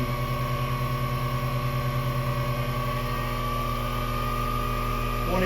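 An experimental air engine with an eccentric drive runs steadily near 2000 RPM, giving a loud, constant mechanical whir with layered harmonic tones and no pauses.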